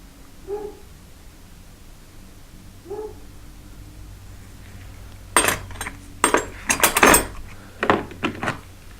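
Wrenches and sockets from a Pittsburgh starter tool kit handled close by, with a cluster of sharp metallic clinks and rattles in the second half after two soft knocks near the start.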